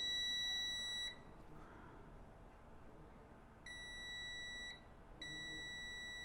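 Steady high-pitched electronic beeps from a multimeter continuity test on a phone circuit board sound in two bursts, one long tone at the start and another later with a short break, over a quiet background.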